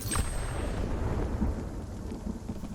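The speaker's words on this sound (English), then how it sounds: "there's a fucking lot of lightning this time" Thunderstorm in the video game Spiritfarer: a steady wash of heavy rain with low rumbling thunder rolling through it, loud and continuous for the whole stretch, with no talking.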